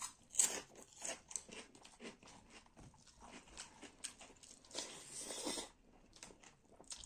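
Someone eats crunchy papad with chicken gravy and rice close to the mic, making a quick irregular series of sharp crunches and bites mixed with softer chewing.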